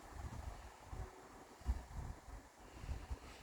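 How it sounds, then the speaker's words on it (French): Light wind buffets the microphone in soft, low gusts, rising and falling irregularly over a quiet outdoor hush. "Il y a un petit peu de vent"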